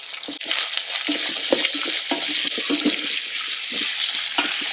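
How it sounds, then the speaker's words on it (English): Sliced onion fries in an Instant Pot, a steady loud sizzle with repeated scraping and stirring clicks from a utensil throughout, no talking. "The onion doesn't have to be transparent, just fry it for a minute"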